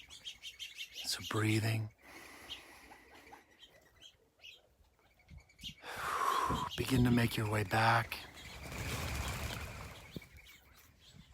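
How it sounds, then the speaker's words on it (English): Many birds chirp at once in a dense, lively chorus that rises and falls in loud bursts, with a calm voice speaking over it at times. "The sound of all those birds all at once."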